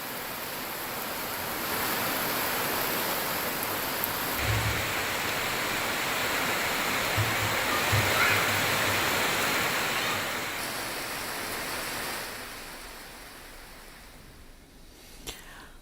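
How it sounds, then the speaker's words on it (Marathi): Evening rain showers in Sindhudurg district: a steady, dense hiss of falling rain runs throughout, fairly uniform and close, easing slightly toward the end, with no voices. "दरम्यान सिंधुदुर्ग जिल्ह्याच्या काही भागात संध्याकाळी सुद्धा पावसाच्या सरी कोसळल्या"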